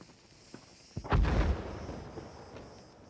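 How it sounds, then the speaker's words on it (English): Explosions in the video game New World: a sharp crack followed by a deep, rumbling boom that swells and slowly decays, with a few faint thuds before it. "the explosions look way better than they did before"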